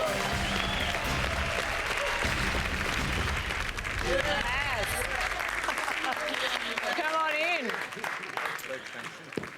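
Studio audience at a television game show gives a loud, sustained round of applause for a departing contestant, dense clapping and cheering that fills the room, with a voice speaking over it as it fades near the end.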